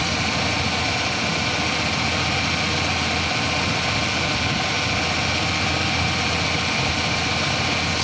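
A Ford Ranger engine idles roughly and unsteadily, producing a constant loud mechanical drone with a low, uneven rumble that persists throughout, recorded close up with no talking.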